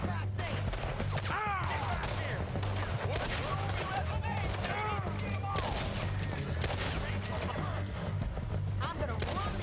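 Dense gunfire in the Red Dead Redemption 2 video game, repeated shots and bursts crackling throughout amid hoofbeats and busy action, with shouted voices over the din.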